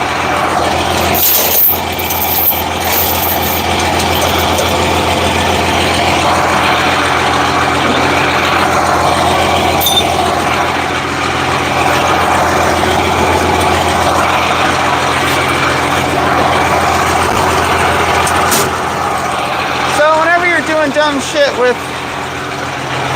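A truck engine idles steadily after a jump start from a van, a continuous low rumble held throughout while people talk nearby and over it.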